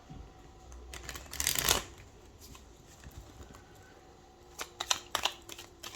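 Tarot cards are shuffled by hand, some upright and some reversed, in a quiet room: a close riffling burst, then softer papery shuffles a few seconds later.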